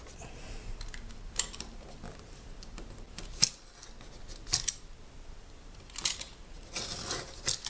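Scrap leather being trimmed for a hatchet sheath, with a few sharp, separate snips of a cutting blade spaced a second or so apart over quiet room tone.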